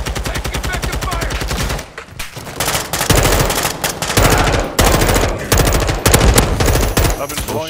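Gunfire comes in long rapid automatic bursts in Modern Warfare 2 Spec Ops, loud and close, broken by short pauses, with no talk over it.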